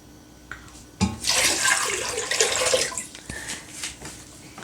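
Water poured into a cooking pot for boiling cassava, a steady splashing rush that starts abruptly and runs for about two seconds before tapering into lighter trickles, close and fairly loud, with no talking.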